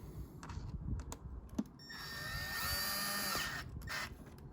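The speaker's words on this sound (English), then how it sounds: "I'm just going to need my screwdriver gun." A cordless power screwdriver drives a screw while a torn seat cover is being replaced, giving a quiet rising whine for about a second and a half after a few handling clicks, heard close and fairly faint.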